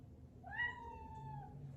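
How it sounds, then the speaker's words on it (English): A small pet cat lets out a single rising and falling meow, close and clear over a low room rumble. "And my little cat Daisy agrees."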